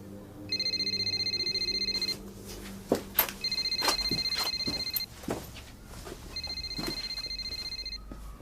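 A mobile phone rings with a repeating electronic ringtone, three bursts of sustained tones with short gaps, fairly loud and close, with a few knocks and movement sounds between the rings.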